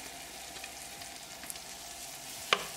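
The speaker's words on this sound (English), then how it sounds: "As the butter started to melt, add garlic." Garlic sizzling in melted butter and olive oil in a frying pan over a gas flame, a quiet steady crackle with a sharp clink near the end.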